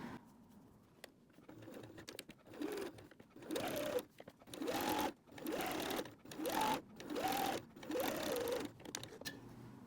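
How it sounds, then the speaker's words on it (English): Sewing machine joining the circular bottom pieces of a fabric water bottle sling with a quarter-inch seam, running in a series of short, even bursts with brief pauses between them, close and moderately loud. "We just sew these together with about a 1/4 inch seam allowance."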